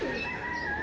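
A young pigeon coos in one brief, steady call close by, over a faint background hum.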